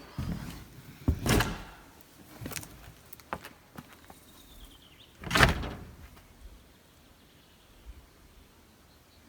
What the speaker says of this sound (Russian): дверь закрылась так, что я реально как бы шуганулась